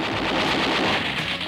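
A sustained burst of gunfire rattles loud and continuous, a dense roar of rapid shots used as a sound effect in a 1989 comedy sketch.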